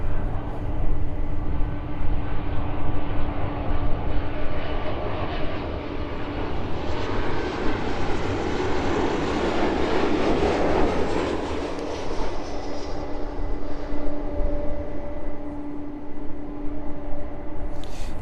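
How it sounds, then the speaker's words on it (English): A Ryanair Boeing 737 lands on the runway at East Midlands Airport at dusk, heard as a broad, steady jet roar from a distance with rumbling throughout and no talk. "Smooth touchdown there from the Ryanair."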